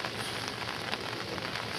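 Steady rain falls outdoors on a November day where deer roam, a dense, even patter and hiss close by with no voices.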